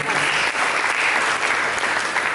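Congregation applauding during a church service sermon, clapping in praise; loud, dense and sustained applause filling the space, close and continuous throughout.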